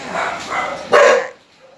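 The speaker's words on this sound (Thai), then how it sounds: "ไม่ต้องเห่าเลย" A dog barks several times in quick succession, close and loud, the last bark the strongest, before a short quiet tail.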